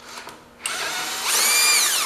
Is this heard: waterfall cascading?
no